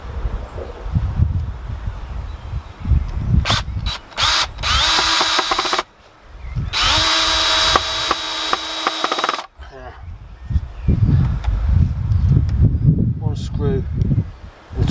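A power drill drives screws into the hinge of a wooden allotment garden gate in short bursts of whining motor, one long run among shorter ones, with a person talking between the bursts outdoors.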